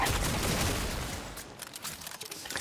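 A burst of video-game explosions in Warframe rolls out as a dense, rumbling fusillade that fades after about a second and a half, leaving scattered softer pops and crackles.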